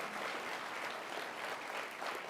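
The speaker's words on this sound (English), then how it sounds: "Give her an extra round of applause." An awards ceremony audience honoring nursing excellence breaks into steady, even applause, a dense wash of many hands clapping throughout, with no voices over it.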